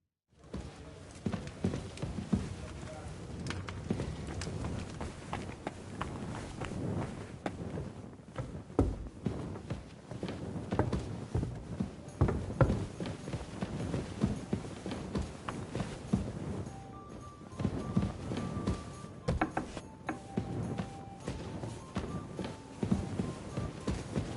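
Horse hooves clip-clop on the ground in Kingdom Come 2, a steady walking rhythm of fairly close, moderate hoofbeats that carries on throughout with ambient game sounds behind.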